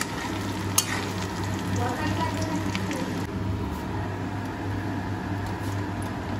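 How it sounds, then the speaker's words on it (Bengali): Vegetable chops deep-fry in oil, turning reddish, with a steady bubbling sizzle, a brief sharp clink near the start and a low hum beneath. "আমাদের এখানে ভাজা হয়ে এসছে, লাল লাল হয়ে গেছে ভাজা।"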